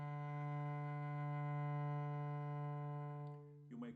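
A cello bowed with slow bow speed holds one low sustained note, steady and rich in overtones, fading near the end as another sound comes in.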